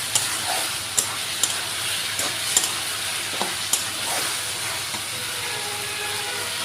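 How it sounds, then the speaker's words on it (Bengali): Masala with tomato is sautéed in a pan, a close, continuous loud sizzle broken by regular scraping stir clicks from a spoon. "দেখেন ভালো করে কষিয়ে নিতেছি আমি"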